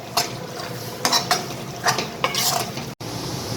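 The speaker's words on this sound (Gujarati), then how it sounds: "હવે આને મિક્સ કરી લઈશું" A spoon scrapes and stirs fenugreek and potato sabzi in a kadai, with several distinct clattering strokes over a light background sizzle.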